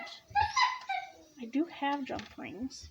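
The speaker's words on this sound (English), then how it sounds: "Sorry about the dog barking." A dog yips and whimpers in short high barks mixed in with someone talking close by during a tassel-making craft session.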